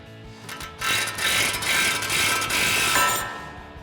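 Ratchet with a 16 mm socket working a bolt on a 2021-2023 Ford Bronco front end, a close burst of rapid metallic clicking for about two seconds, with no talk.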